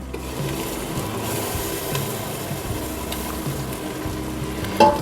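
Tomato paste frying with fish curry masala in a pan, a steady close sizzle with soft scraping stir strokes, ending in a sharp clink of the utensil against the pan.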